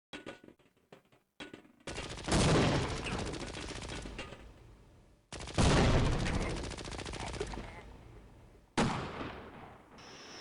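Enemy gunfire hits the player in the video game Half-Life: loud, dense bursts of rapid shots arrive in three separate volleys with short gaps between them, and no voices are heard.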